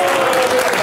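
Studio audience of a reality show clapping, a short dense burst of applause that is loud and close.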